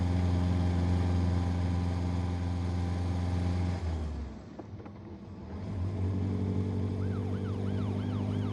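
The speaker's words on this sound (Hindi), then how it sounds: "पुलिस की गाड़ी आ रही है, नीचे छुप जाओ।" A police siren wails steadily alongside a vehicle engine, dips briefly, then returns with a rising and falling tone.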